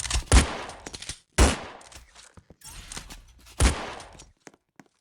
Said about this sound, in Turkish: şu anda milleti vuruyorum